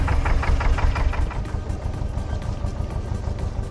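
Narrowboat engine chugging steadily at close range while cruising through canal locks, a low rhythmic knocking throb with no talk over it.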